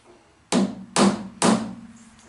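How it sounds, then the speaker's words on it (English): Plastic hammer tapping a workpiece to correct runout, three sharp, close, evenly spaced blows about half a second apart, each with a short ringing decay. "after a little bit of hammering, of course, with my plastic hammer"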